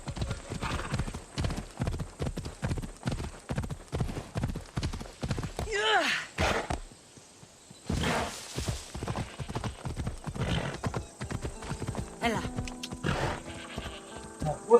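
Rapid, rhythmic hoofbeats in an Assassin's Creed Odyssey video game clattering close by, with a brief pause and a horse whinny, then galloping resumes over faint background sounds.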